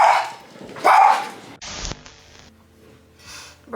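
Indoors, a dog lets out two loud, close barks in quick succession, followed by a sharp thump and quieter rustling noises.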